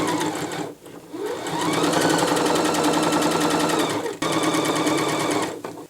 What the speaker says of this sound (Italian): quindi lascio l'apertura al centro e cucio.